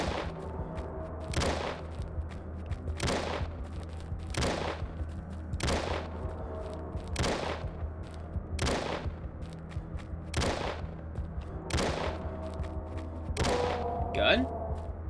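Revolver gunfire from the horror game Deadly Night, about eleven sharp shots at a steady, unhurried rhythm over a low droning background.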